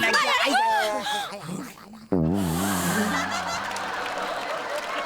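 Squawking, clucking chicken calls on a comedy stage as a car runs four chickens over, rising and falling for a couple of seconds before a sudden thud and a steady low drone. The calls seem voiced by performers rather than real birds.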